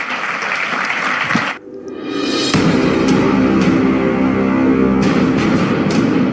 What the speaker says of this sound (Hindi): जोरदार तालियों के साथ स्वागत कीजिए श्री अमित शाह का